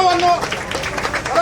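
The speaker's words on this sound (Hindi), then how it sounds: "एक बार जोरदार तालियां" An audience at a village ceremony claps loudly in a brief, dense burst, with voices and a short tone mixed in.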